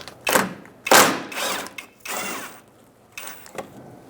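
A ratchet with a 10mm socket turns out bolts under the front of a 2002-2006 Toyota Camry, giving several loud, close bursts of clicking with short pauses between them and no talk.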